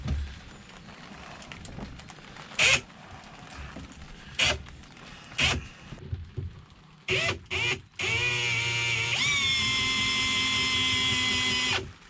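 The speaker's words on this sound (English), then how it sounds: "let's see if this will actually work, if I can actually get these stainless nails out of here" Stainless steel nails being pried and pulled from a wooden boat deck, heard as a few sharp, close metallic squeaks and cracks, then a long sustained whining grind from a tool at the end, with no voices.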